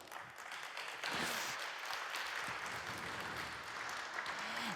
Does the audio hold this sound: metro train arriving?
no